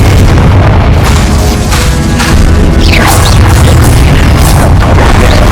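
Confringo blasting spell detonating in Hogwarts Legacy during Percival Rackham's trial, a loud, dense run of booming explosions and bursts with whooshing blasts layered over a constant rumble.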